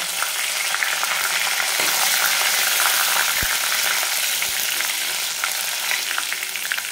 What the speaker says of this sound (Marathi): एक मिनिटभर परतून घेऊ जरा, त्याला कच्चेपणा जाईपर्यंत